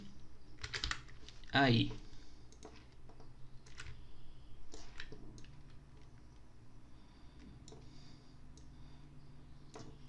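Typing on a computer keyboard, faint scattered clicks and taps over a low room hum, with someone talking briefly and one louder brief sound near the start.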